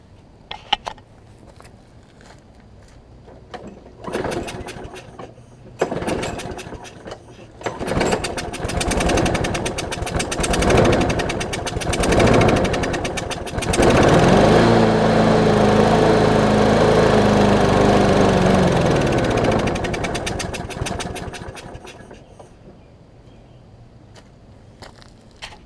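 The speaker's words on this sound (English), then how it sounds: "So let's give this thing a shot now before it gets too dark." A John Deere JS35 lawn mower engine is pulled several times with sputtering bursts, then catches and runs loudly for several seconds before winding down, with no talk.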